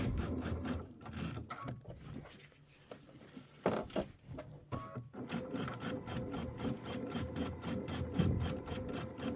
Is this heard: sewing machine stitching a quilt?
yes